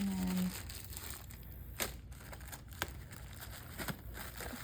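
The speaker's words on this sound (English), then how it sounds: "So I'll unwrap this and show what's in each of these." Plastic wrapping peeled off the cords of a wireless dual car camera baby monitor, with close, quiet crinkling and a few sharper crackles and snaps.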